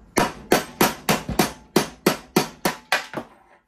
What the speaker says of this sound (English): I'm just gonna give this a couple taps.